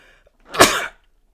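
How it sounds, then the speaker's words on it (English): A single loud sneeze bursts out, sharp and close, in an otherwise quiet moment. "I'm about to sneeze, and it's going to pick up in HD."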